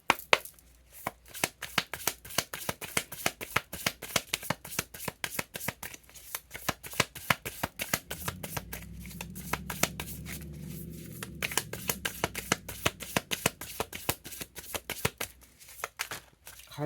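A deck of tarot cards is shuffled up close in long runs of crisp flapping and riffling, with a softer rustle partway through and no talking.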